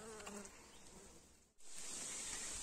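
Agitated bees swarm inside a cardboard trap hung in a forest, a dense continuous buzzing hum that briefly dips then swells louder, close by.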